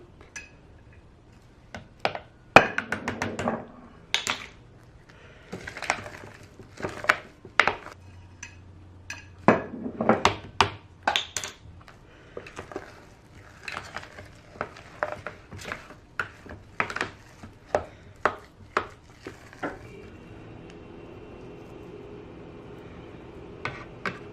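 Oat flour stirred into a sticky sweet potato burger mixture in a bowl, heard as irregular clinks and knocks of a utensil against the bowl, close and intermittent, ending with a quieter stretch of soft scraping.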